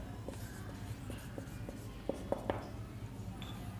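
Soft scratchy strokes of writing on a board while working a trigonometry problem, short taps and scrapes in an uneven rhythm, close and fairly quiet.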